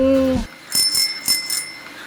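A subscribe-notification bell sound effect: a short tone, then several bright, close metallic dings ringing out in quick succession.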